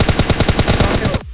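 Loud, close automatic gunfire in the mobile game PUBG Mobile Lite, a rapid even burst of about a dozen shots that cuts off abruptly.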